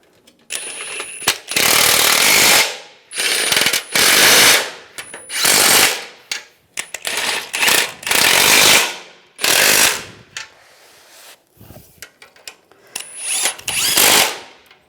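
A power tool tightens bolts on the rear bumper impact absorber of a 2007-2013 Chevrolet Silverado 1500, firing in loud, close, repeated bursts of a few seconds each, separated by short pauses.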